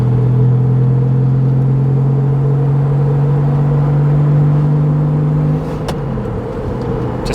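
A Porsche Boxster with an aftermarket short shifter and cables drives at steady speed, a loud, close engine drone that steps down in pitch near the end as the car is pulled into second gear.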